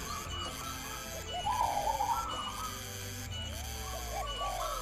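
A zebra dove (Javanese turtledove) coos in soft, rolling phrases, close and clear, set against a steady electronic hum with faint rhythmic clicks.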